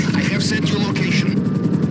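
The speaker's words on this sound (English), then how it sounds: "Now you may have to chase the Merryweather helicopter and wait for it to land" Merryweather helicopter in Grand Theft Auto, a rhythmic rotor thump and engine drone running steadily beneath louder talking, with choppy pulsing near the end.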